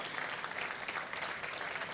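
Audience applause after a talk at a hacker congress stage, a continuous even wash of clapping from a crowd, steady and moderately distant throughout.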